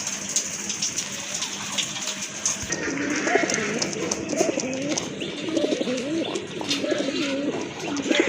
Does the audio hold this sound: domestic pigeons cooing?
yes